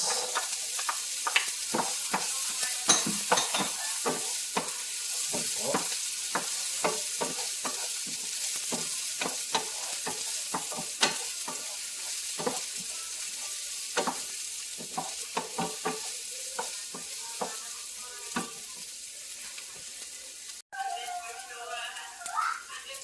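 Garlic and onion sauté with pork in a pan, a continuous close hiss of frying punctuated by many quick spatula scrapes and taps, with a voice talking over it and a brief break near the end.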